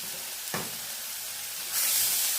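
Onion, kokum, turmeric and green chillies sautéing in a pan for a radish dish, with a soft steady sizzle, a brief knock early on, and a louder hissing surge near the end.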